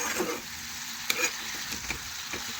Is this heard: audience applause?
no